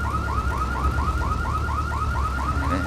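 A car alarm in the video game GTA III wails in a steady repeating up-sweeping pattern, loud and continuous, with low engine rumble underneath and no talk.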